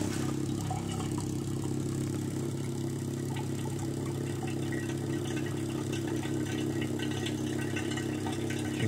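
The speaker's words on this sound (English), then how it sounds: "I'm going to turn this back on, but it just started sucking air." An oil extraction pump draws oil and air up through a car's dipstick tube with a steady, close, continuous motorised drone and rattle that holds at an even level throughout.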